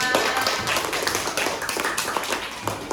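A class of students in an Indonesian classroom claps hands together, a steady patter of many nearby claps at moderate volume filling the room, with no clear speech over it.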